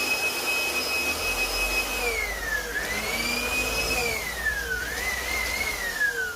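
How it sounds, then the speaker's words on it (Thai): An air blower drives dust out of an indoor air conditioner unit during cleaning, a loud continuous high-pitched whine that rises and falls as the nozzle moves, close and alone without speech. "เนี่ยครับก็มาเป่าลมออกครับ"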